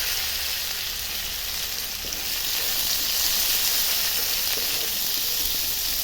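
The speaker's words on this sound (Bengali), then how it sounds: "এখন পেঁয়াজ দিয়ে দিচ্ছি সম্বারা।" Onions sizzle steadily in oil tempered with cumin, a continuous bright frying hiss that stays loud and even throughout with no voices.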